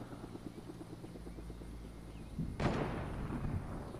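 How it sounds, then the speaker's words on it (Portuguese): Helicopter in the game Fortnite, a rhythmic rotor chop beating steadily, joined midway by a loud burst like a blast or heavy impact that lingers as rumble. "Helicóptero."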